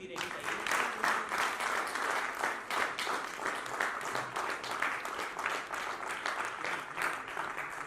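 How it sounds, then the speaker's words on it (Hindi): Audience applause at a charity awards event in Jaipur, a dense steady patter of clapping from a crowd holding on for about eight seconds, with some voices mixed in underneath. "युवाओं के लिए तालियां बजती रहनी चाहिए।"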